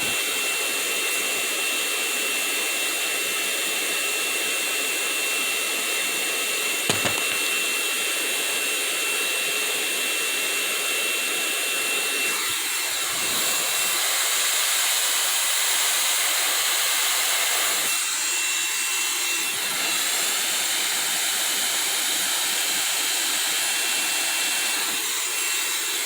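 A hair dryer blows steadily and loudly throughout while hair is dried during a hair-care routine, its airflow briefly changing pitch and intensity as it moves, with no talking.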